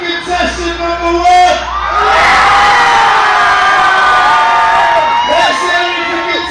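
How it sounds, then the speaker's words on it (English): A packed nightclub crowd cheers for a contestant in a loudest-cheer competition, a sudden swell of whoops and yells that holds loud and dense for several seconds before easing slightly, with music tones under it. "Whoever gets the loudest cheer is a winner."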